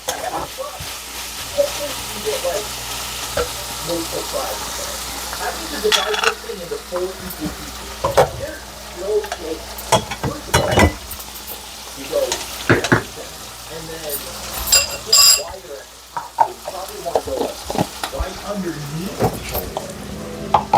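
Okra (ladyfinger) fries in a pan with a steady sizzle, while a spoon stirs it and scrapes the metal now and then. A person talks intermittently over the cooking.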